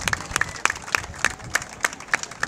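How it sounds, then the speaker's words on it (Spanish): An audience applauds a soprano singer as she leaves the stage at a concert event. The claps are sparse and fairly even, with distinct sharp beats at a moderate level and no voices. "a quien despedimos con ese cariñoso aplauso"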